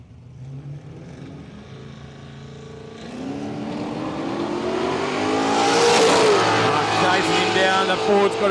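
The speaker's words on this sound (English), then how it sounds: "As he gets the HK up on the revs here, get it up on the trans brake, ready to go." A Holden HK drag car at a road-trip drag challenge revs up on the transbrake, its engine note climbing steadily louder into a roaring launch with rising pitch, close and dominant.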